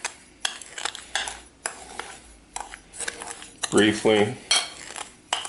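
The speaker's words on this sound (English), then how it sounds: "Just mix the baking powder and salt" Baking powder and salt being mixed in a bowl with a spoon, a series of quick scraping and clinking strokes in short bursts, close by, with a brief spoken word partway through.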